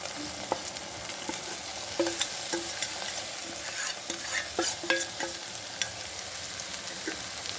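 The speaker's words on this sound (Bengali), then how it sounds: "এখন বেগুনটা দিয়ে দেবো।" Eggplant pieces sizzle in a pan over fried onion on a high gas flame, with steady frying hiss and repeated close scrapes and clicks of stirring.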